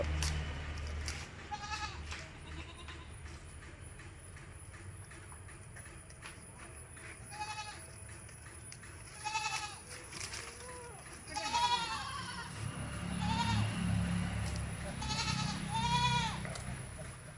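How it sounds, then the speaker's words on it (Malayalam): Goats bleat repeatedly at a livestock farm in Manjeri where goats, milk cows, buffaloes and bulls are kept for sale, the calls coming in bursts over a low rumble of background noise, with someone talking in between. "ഏകദേശം മൂന്ന് മാസത്തോളം ചേനായ ഒരാട് വളർത്താൻ പറ്റിയ കേട്ടോ"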